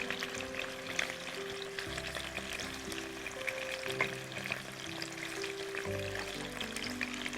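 Chicken pasande pieces sizzle and fry steadily in a pan as they are stirred, a continuous close crackle with no speech.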